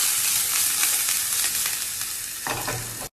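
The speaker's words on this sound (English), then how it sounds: "Go in with your onions and you want to saute until soft" Chopped onions sauté in a couple of tablespoons of oil in a pan: a steady, close, loud sizzle with stirring scrapes throughout, ending in a brief cutoff. No voices.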